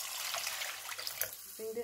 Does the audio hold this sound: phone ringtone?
no